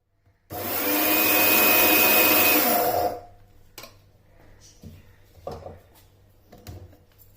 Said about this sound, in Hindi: अब इन चारों मसालों को ग्राइंड कर लेना है, लेकिन बहुत नहीं पीसना, सिर्फ दरदरा सा करना है